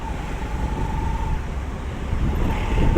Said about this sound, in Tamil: இப்போ கொஞ்சம் டிராஃபிக்காக இருக்குது காய்ஸ்